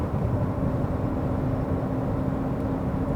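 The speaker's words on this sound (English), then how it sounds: "this is 4-cylinder diesel engine, so you'll notice and feel the noise and vibration coming from the diesel" Inside a moving Ssangyong Korando, its 4-cylinder diesel engine gives off a steady low drone and hum with faint road noise, even and unchanging, no voices.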